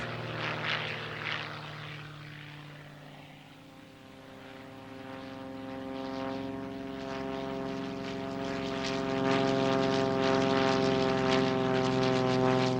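A propeller topdressing aircraft flies low over New Zealand pasture, its steady droning engine hum swelling louder as it nears and holding strong, no voices.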